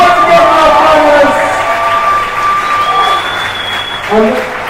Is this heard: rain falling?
no